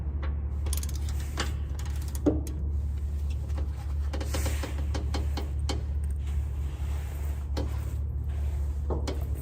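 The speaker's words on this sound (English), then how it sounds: "Big wrench. Hopefully it's come out easy." Big wrench ratcheting a bolt loose on a Toyota JZX100 Chaser during a car build: a run of sharp, close metallic ratchet clicks in short irregular bursts over a steady low hum, with no talking.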